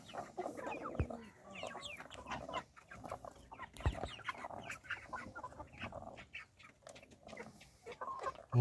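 Large backyard hens, heavy meat birds around two to three kilograms, clucking and murmuring close by in irregular bursts, with occasional louder squawks among the flock.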